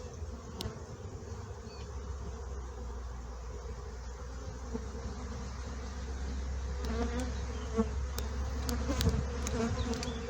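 A honey bee colony hums in a dense, continuous buzz during a hive inspection, close and steady, with brief clicks and handling noises from working the hive toward the end.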